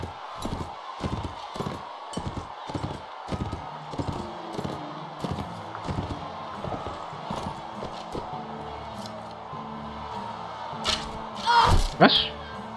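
Horse galloping in the video game Mount and Blade: Warband, a run of rhythmic hoof thuds at a steady pace, followed by scattered game noises and a brief louder burst near the end.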